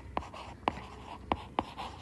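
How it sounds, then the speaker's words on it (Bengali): Chalk or a marker taps and scratches across a classroom board as a teacher writes, with four sharp strokes spaced irregularly over about two seconds. The sounds are close, with a quiet room behind them. "এটা যদি আমি লিখি"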